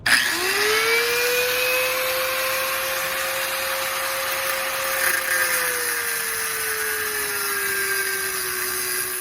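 A cut-off wheel grinds through a rusted sway bar bolt on a 1988–98 2WD Chevrolet C1500 pickup during a lift install, giving a loud, steady, close high-pitched whine that holds unbroken for about nine seconds with no talking.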